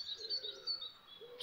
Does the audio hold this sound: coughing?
no